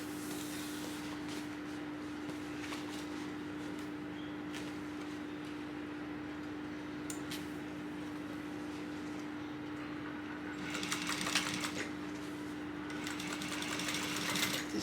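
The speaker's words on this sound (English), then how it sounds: "We're just top stitching this along the edge." A sewing machine runs steadily while top stitching along the edge of a tote bag panel, a continuous mechanical whir with a constant hum, growing busier and slightly louder near the end.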